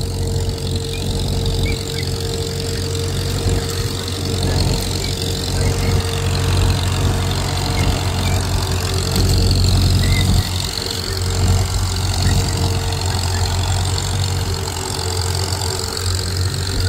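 An old M tractor engine idles steadily and close by after a day of disking, with a deep, even rumble and faint knocking throughout.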